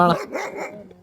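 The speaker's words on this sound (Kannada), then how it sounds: "ಅಕ್ಷಯ್ ಅಣ್ಣ ಅವ್ರ ನಾಯಿ." A single close, loud dog bark, short and sharp, followed by a brief trailing growl.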